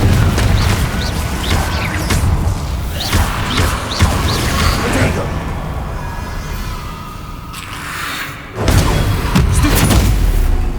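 Confringo fire-blast spell cast repeatedly in the video game Hogwarts Legacy, loud booming explosions and crashing impacts over a dense rumbling game soundscape, with a brief lull near the end before the blasts resume.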